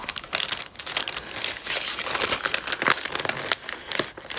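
A sheet of paper is folded for an origami peacock, giving close, busy crinkling and crisp rustles with quick creasing snaps, continuous for a few seconds and without talk.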